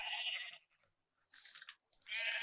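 Sheep in the video game Minecraft give short, clear bleats: one at the start, a softer one midway and another at the end, separated by near silence.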